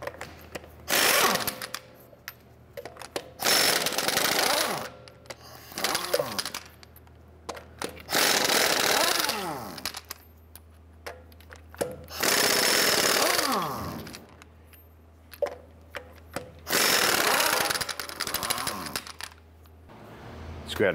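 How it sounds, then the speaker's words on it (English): A pneumatic impact wrench with a 22 mm socket spins off the lug nuts on a 2011-2018 Ram 1500 wheel in five loud rattling bursts of a few seconds each, separated by quiet pauses. "Using a 22 millimeter socket, let's go ahead and remove our lug nuts."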